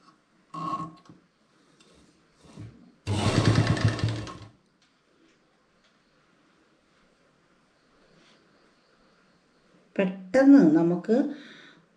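Sewing machine stitching a two-sided cloth face mask: one brief, loud whirring run of stitching lasting about a second and a half, set between stretches of someone talking.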